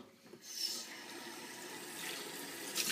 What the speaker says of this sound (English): Just pour it down the drain.